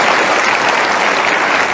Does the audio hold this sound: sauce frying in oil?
no